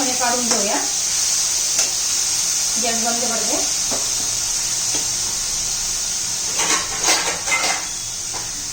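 Ridge gourd sautéing in a pan for chutney, a steady hiss of frying with scrapes and clinks of a spatula stirring against the metal, while a voice talks over it at times.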